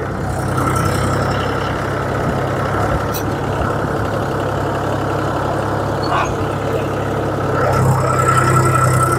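A loaded tractor working a ring-pit sugarcane planting implement runs its engine at a steady, loud, low rumbling drone throughout, with a few faint clanks over the continuous engine noise.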